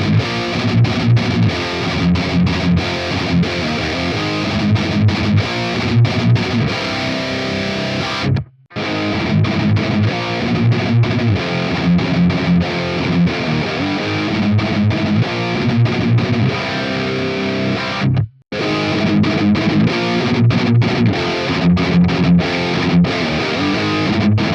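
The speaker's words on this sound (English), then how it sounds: "to hear what these Recto tones sound like with a boost up front" Heavy distorted electric guitar riffs through a Recto amp capture on a Neural DSP Quad Cortex, boosted by a Highwind Direwolf Overdrive, playing loud and dense with two brief dead stops.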